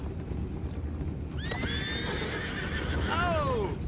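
Horses in the video game Red Dead Redemption 2 let out two high whinnies, one partway through and a second near the end, over a low background bed of hooves and murmur.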